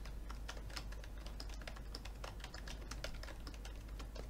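Numbers are tapped out on the top number row of a computer keyboard during a typing game, a fast stream of light clicking keystrokes over a faint steady hum.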